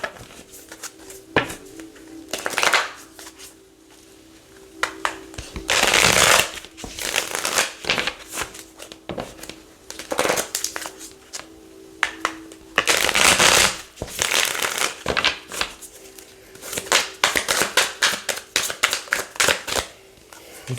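Tarot cards are shuffled in repeated bursts of riffling and flapping, with sharp bridging clatters between quieter pauses, close and crisp.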